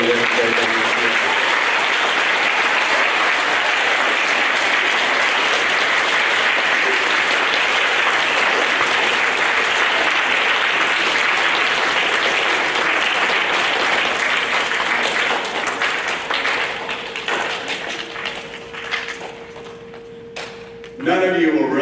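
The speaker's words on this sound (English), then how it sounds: "give a round of applause to the teachers in this room" Sustained, loud applause from a school audience for the teachers at a sixth grade awards program, filling most of the stretch before tapering off near the end with a faint tone and scattered claps.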